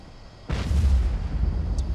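A UUM-125B Sea Lance missile launches from a submarine in a naval video game. A sudden loud, deep boom bursts in about halfway through and settles into a sustained low roar that runs to the end.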